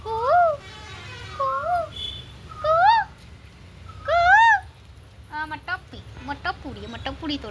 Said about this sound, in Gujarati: જો કોયલ બોલે